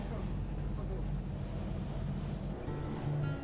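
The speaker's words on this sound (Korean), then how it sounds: "심한 파도와 강한 바람을 헤치고 무사히 독도 인근까지 다다랐을 땐" Heavy ocean waves and strong gusting wind buffet a boat on a stormy night voyage toward Dokdo, a steady low rumbling wash with no clear breaks.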